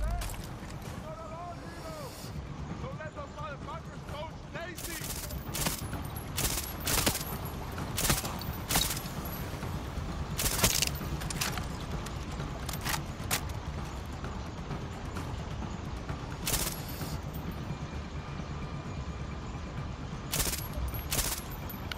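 Sharp bursts of gunfire ring out intermittently in a Far Cry 6 battle, scattered shots of varying loudness over low rumbling ambience, with someone talking over them.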